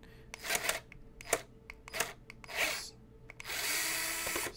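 An Amazon Basics ASD2401 electric screwdriver driving a screw into large electronics, in several short whirring bursts with pauses and clicks, ending in a longer steady run, close and fairly quiet.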